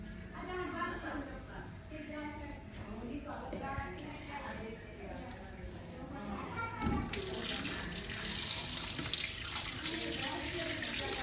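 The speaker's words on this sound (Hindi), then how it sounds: "जब तक ये प्याज ब्राउन होते हैं हम चिकन धुलाई करते हैं" Raw chicken washed under a running kitchen tap, a steady stream of water splashing into the sink, faint and continuous while people talk nearby, growing louder and brighter toward the end.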